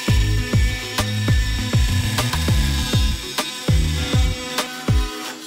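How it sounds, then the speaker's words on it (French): Hilti SMT 6-22S oscillating multitool cutting through an oak batten, a buzzing whine broken by a quick series of sharp, regular bursts and thumps, loud and close with no talk. "Je chope un carrelet de chêne et je m'attaque à une nouvelle découpe."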